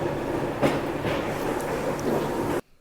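A Vistadome train rumbles through a tunnel in the Western Ghats on the Bengaluru–Mangaluru route, a steady enclosed roar with faint rhythmic wheel clacks, continuous and fairly loud until it cuts off.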